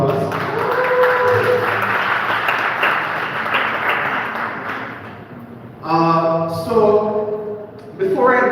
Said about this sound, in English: Please could you give them a round of applause?